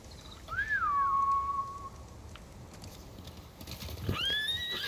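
Horse whinnying in a video game, with a long descending neigh early on and a rising neigh near the end, over soft hoof clip-clop and ambient game sound.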